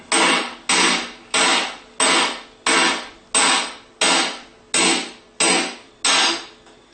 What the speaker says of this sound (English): So now we're going to tap the rear bearing, the front bearing out of the front plate.